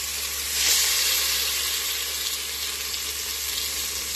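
Sardines and onion sizzle steadily in a hot pan, a continuous close frying hiss that swells briefly near the start, with no voices.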